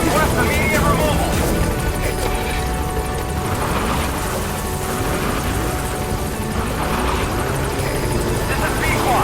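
The Pequod helicopter from Metal Gear Solid hovers close by, its continuous rotor thrum and whining engine steady and full throughout, with a faint metallic clatter mixed in.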